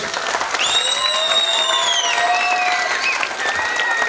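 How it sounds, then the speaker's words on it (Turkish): Audience applause fills a Turkish theatre hall at the staging of the play Pembe Aslında Siyahtır, a dense, steady wash of many hands clapping at close range with a few cheers mixed in. "Değerli belediye başkanımız Mehmet Oktay'a alkış."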